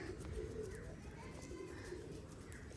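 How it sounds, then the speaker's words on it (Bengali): Pigeons, including a male red pigeon, coo repeatedly with soft, rhythmic throaty calls over a steady background rumble on a Friday morning release. The cooing carries on throughout without speech. "এই কবুতরটা হচ্ছে আমার প্রথম কবুতর"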